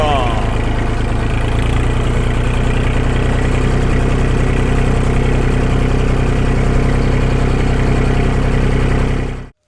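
A loud, steady diesel tractor engine idles close by with a constant low rumble, then cuts off abruptly at the end.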